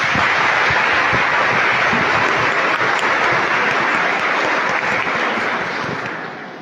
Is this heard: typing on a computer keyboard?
no